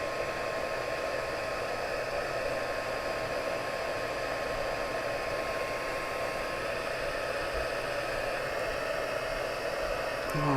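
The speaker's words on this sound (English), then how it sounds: "I still have my heat tool on" A crafting heat tool blows continuously, giving a steady, close, hissing whoosh of air at constant level throughout with no talk over it.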